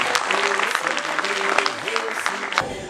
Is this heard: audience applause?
yes